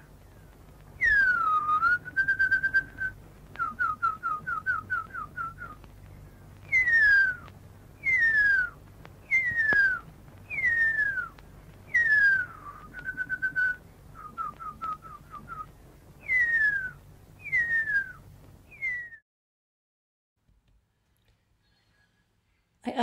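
A person whistles an imitation of the extinct Huia bird's call: a repeated series of sharp downward-sliding whistles, each followed by short trills of quick notes, clear and close, ending in silence.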